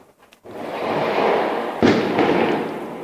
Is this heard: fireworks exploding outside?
yes